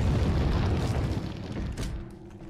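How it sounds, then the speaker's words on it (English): Dynamite blast inside the Resident Evil 4 video game, a loud booming explosion that rolls on as a low rumble and slowly decays over a couple of seconds, with no talking. "there's some dynamite here. Yep, just get basically all the way against the wall to avoid the explosion"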